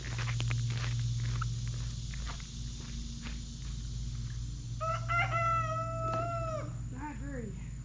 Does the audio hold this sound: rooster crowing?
yes